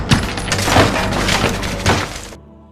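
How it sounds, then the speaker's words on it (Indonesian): Window glass smashed during a violent film scene with intruders attacking a house: a loud, sustained crash of breaking and shattering glass with splintering debris, cutting off abruptly near the end. "sisanya membalas dengan brutal menghancurkan kaca jendela"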